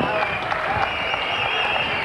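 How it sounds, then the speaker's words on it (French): Studio audience applause at a French television show during the Cannes festival, a steady wash of clapping for about two seconds with voices mixed in underneath. "Ces applaudissements sont bien entendus pour notre invitée Ophélie Winter."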